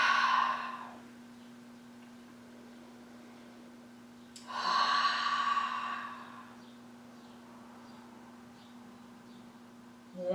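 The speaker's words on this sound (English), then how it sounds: "One more deep breath." Two soft, deep breaths from an intermediate yoga session, each a drawn-out exhale a few seconds apart, faint against a quiet room with a low electrical hum.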